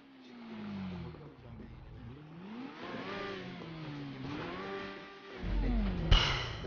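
A motorcycle engine in GTA 5 revs up and down repeatedly, its pitch rising and falling in waves close by, ending with a sharp thump.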